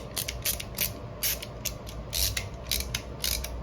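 A Pittsburgh extendable ratchet wrench, turned the other direction and sounding slightly loose, clicks in quick bursts of rapid, close metallic ticks, pausing briefly between strokes, with a low hum underneath.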